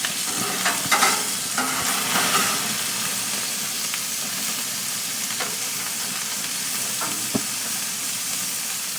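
Burgers sizzle on a gas grill with a steady crackling hiss of frying fat, a few faint scrapes and pops over the continuous sizzle, close by and without talk.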